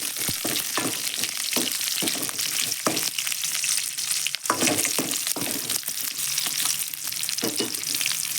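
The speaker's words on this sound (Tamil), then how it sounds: "ஃப்ரெஷ்ஷாக பறிச்ச கருவேப்பிலை இது நல்லா வதங்கணுங்க" Fresh curry leaves sautéing in a pan for a long bean stir-fry, a loud continuous sizzle and crackle close up, broken by frequent sharp scraping strokes of stirring.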